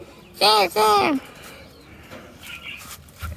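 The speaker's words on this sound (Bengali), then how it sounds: "অনেকে বলে যে খরগোশ ডাকে না, খরগোশের বাচ্চার চিল্লান দেখলেন কিরকম" A baby rabbit on a storm-battered farm lets out two short, high squealing cries in quick succession, followed by quiet with faint background noises.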